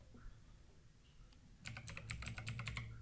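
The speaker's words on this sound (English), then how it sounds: "Now type" A computer keyboard being typed on, starting after a quiet stretch with a quick burst of close key clicks in a steady rhythm over low hum.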